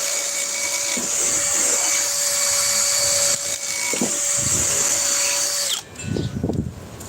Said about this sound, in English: This is just a drill driver, no hammer drill.